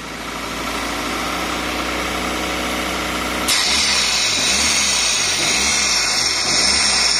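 A Toyota 4A-GE engine idles with its IAC hose pulled off, first holding a steady drone, then a sudden change as the idle starts hunting, the revs surging and dropping in a slow repeating wobble, loud and close.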